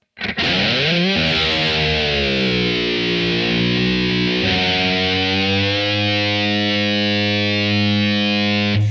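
Heavily distorted electric guitar held on an open A while the tremolo bar slowly raises the pitch; a loud, continuous sustained tone bends upward and then holds steady, with no talking.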